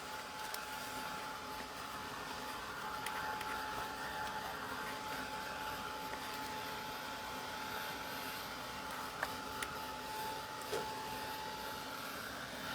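A handheld drying tool blows air over an art journal page, a steady, continuous whooshing drone with a faint whine that runs unbroken throughout, with occasional small clicks and no voices.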